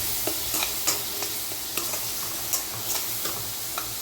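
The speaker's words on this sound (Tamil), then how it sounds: "வெங்காயம் எண்ணெயோட மிக்ஸ் ஆகி அப்புறமா எண்ணெயிலேருந்து பிரிஞ்சு வர வரைக்கும் இந்த வெங்காய பேஸ்ட்டு வந்து வதங்கட்டும்" Onion paste sautéing in oil for egg gravy, a steady close sizzle punctuated by regular light taps and scrapes of a spoon stirring in the pan, without speech.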